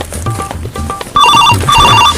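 A telephone rings loudly and close, with repeated bursts of bright electronic ringing, after a few quieter tones and low background noise.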